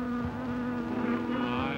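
Steady insect buzzing from a bee in an old Hollywood film scene, a continuous droning hum held at close range throughout, with no talk over it.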